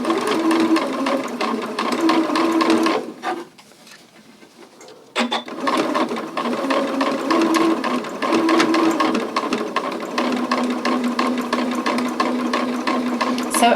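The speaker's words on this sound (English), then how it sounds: "So as you stitch around these curves, you'll just want to make sure that your darts remain flat" Sewing machine running steadily as a lined zipper pouch is stitched around curves at a 3/8 inch seam allowance, a continuous close mechanical whir with a brief pause in the middle.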